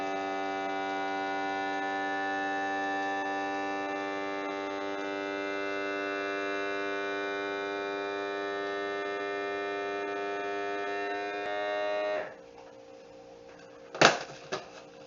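A vacuum sealer machine running with a steady droning hum that cuts off near the end, followed by a brief click, close and with no talk.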